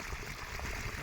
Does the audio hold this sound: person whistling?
no